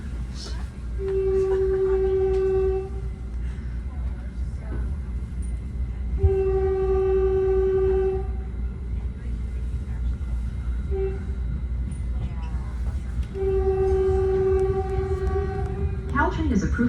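Caltrain northbound limited-stop train #425 pulling out of Mountain View station: a steady rolling rumble with three long, loud horn blasts spaced several seconds apart, and voices faintly in the background.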